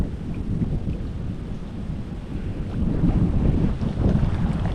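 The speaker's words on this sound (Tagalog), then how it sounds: "Malakas ang hangin." Strong wind by a river buffeting the microphone, a steady low roar that rises toward the end, loud and continuous, with no talking.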